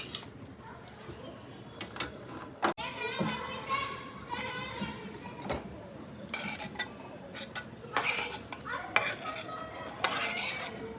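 Pumpkin curry is scooped out of an iron pan with a metal spoon, giving repeated scraping and clanking of utensil against metal, with voices and children in the background.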